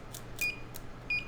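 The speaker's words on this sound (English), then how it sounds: "I totally got a beep" Two short, faint beeps about half a second apart come from a meter probing for a short on an iPhone 6s Wi-Fi chip, with light clicks between them.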